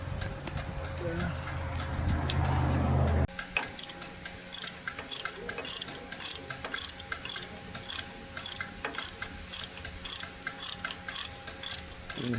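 Hand tools work loose bolts on a 2003 Silverado 2500HD wheel bearing, with a loud mechanical burst first and then a string of quieter ratcheting clicks and metallic taps. Someone talks over the work.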